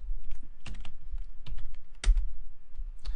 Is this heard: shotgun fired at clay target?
no